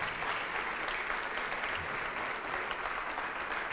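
Steady, dense applause from a church congregation during a worship service, sustained and fairly loud across the whole stretch with no break.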